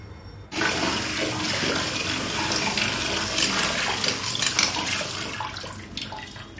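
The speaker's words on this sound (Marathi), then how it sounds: "वांगी धुवून घ्यायची." Water from a tap running steadily while eggplants are washed by hand, a sudden start followed by a loud, close, continuous splashing gush with faint handling noises.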